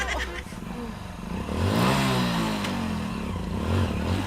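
A motorcycle engine hums and revs as it is ridden, a steady mid-loud drone that swells in pitch partway through, with people talking over it.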